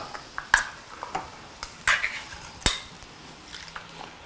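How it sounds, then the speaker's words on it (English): Diced canned tomatoes go into a casserole pot for a polenta beef and vegetable dish, with a few sharp metallic clanks and scrapes of utensils against the pot and soft wet plops, close by and without talk. "we're gonna now add, this is diced canned tomatoes"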